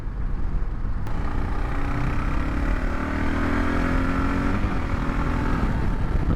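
Kawasaki KLR 650 adventure motorcycle engine at full throttle, a loud, steady, rising drone close to the listener with wind rush, held for several seconds without speech.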